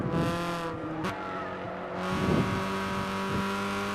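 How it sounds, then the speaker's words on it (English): A race car driven in Gran Turismo 6, its engine holding a steady harmonic drone with brief shifts and a short rising rev near the middle, close and continuous with no voices. "I'm driving the car."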